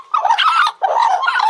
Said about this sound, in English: This is the only bird in the world that does this sort of singing where they sort of sound like a bit of a demented synthesizer